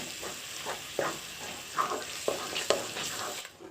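A tomato and green coriander paste sizzles quietly in a frying pan while a spoon stirs it, with soft scraping strokes at an irregular rhythm over a steady low hiss.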